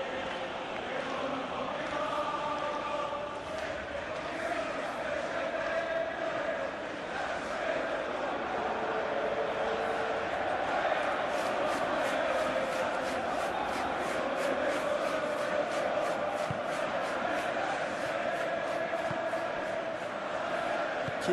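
Stadium crowd noise in the PES 21 football game, Inter Milan against Liverpool, a steady broad roar of applause and cheering that swells a little, heard under a commentator's voice.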